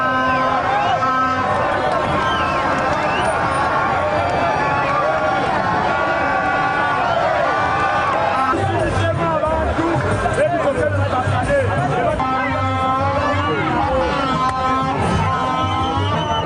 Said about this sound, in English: His supporters created crowds in different parts of the city centre and were making joyful noise